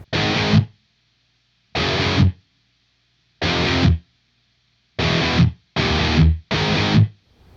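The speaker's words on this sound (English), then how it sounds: "the sound of a cranked up 100-watt Marshall Super Lead is something that we've been listening to" Heavily distorted electric guitar chords played through a cranked 100-watt Marshall amp, six short bursts with brief silences between them, the last three coming quickly.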